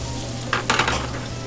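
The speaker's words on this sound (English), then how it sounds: "I'm going to let that kind of sizzle in there with the oil." Garlic sizzling steadily in oil in a pan, with a couple of brief bursts of brighter crackle and faint stirring near the start, no voices.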